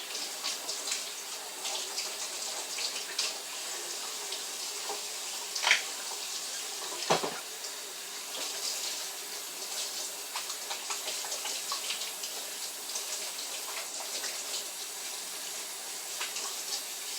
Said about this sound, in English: Water running in the background because I'm going to rinse my carrots